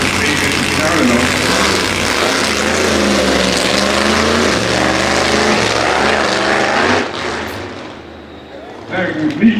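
A Top Methanol drag racing car engine rumbles loudly while rolling slowly at a drag racing event, a deep throbbing idle that drops away near the end, with a commentator talking over it.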